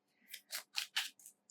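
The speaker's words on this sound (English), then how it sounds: "Let's shuffle some more." Tarot cards are shuffled in a series of five quick, crisp riffling bursts, each a short papery flutter separated by brief pauses, close and fairly quiet.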